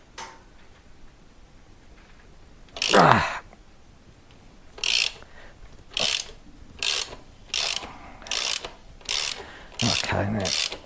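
A ratchet bar clicks in a series of short, evenly spaced bursts while loosening the rear axle nut on a Royal Enfield Himalayan motorcycle, close and crisp, with one heavier creak and strain early on.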